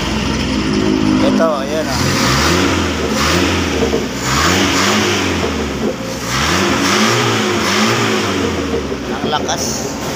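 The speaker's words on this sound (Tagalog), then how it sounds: "Napakalakas na ng makina." Motorcycle or small car engine revving strongly after a carburetor repair kit change, several rising and falling throttle bursts in close succession, loud and near, with someone talking over it.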